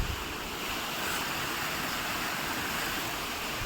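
A waterfall of clear water near a cave, on the road from Gangtok toward Lachung, gives off a soft, continuous rushing hiss. The sound is steady and fairly distant, with no voices over it.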